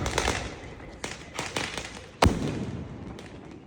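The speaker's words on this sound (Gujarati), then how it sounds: "આ આપણે લાઈફમાં છે ને પહેલી વાર ડબ્બો ફોડ્યો છે" A large box of dragon-type firecrackers bursts in a series of sharp cracks and thumps, with a loud close blast near the middle followed by crackling and a lingering noisy tail.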